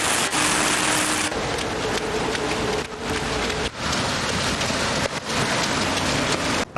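Heavy rain falls steadily outdoors on a boulevard during a street march, a dense loud hiss with brief dips and crackling impacts, no voices heard.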